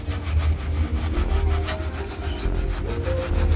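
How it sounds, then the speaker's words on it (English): A brush scrubs car brake calipers on a BMW F32 with soapy water, a close, continuous rough scratching with rhythmic back-and-forth strokes and no voices. "So what you're going to do is just scrub the calipers."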